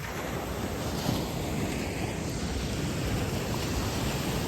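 Ocean surf at a beach in Goa rolls in as a continuous broad wash of breaking waves, loud and close, mixed with gusty wind buffeting the microphone and no voices.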